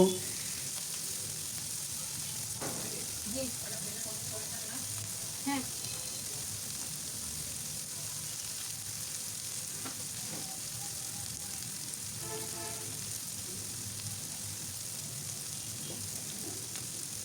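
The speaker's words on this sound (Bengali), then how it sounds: "পেঁয়াজগুলো ভাজা হচ্ছে" Onions frying in a pan for a chicken kosha curry give a steady close sizzle, with a few faint scraping stirs scattered through it.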